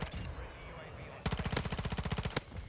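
Automatic gunfire in Modern Warfare with a PDSW 528: after a stretch of muffled game noise, a rapid, steady burst of loud, close shots rattles off for over a second and stops abruptly.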